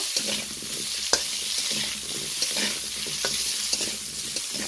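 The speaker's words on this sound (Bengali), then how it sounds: "তো আলুটা ভেজে নিচ্ছি" Potatoes fry in a pan of hot oil for a Bengali cauliflower and bhetki fish curry, a steady close sizzle with occasional stirring scrapes and clinks, no voices.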